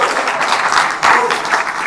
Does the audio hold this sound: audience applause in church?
yes